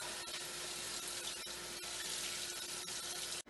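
Tap water running steadily into a sink while spring greens are washed with a little soap, a constant close, fairly loud hiss that stops abruptly at the end, with no voices.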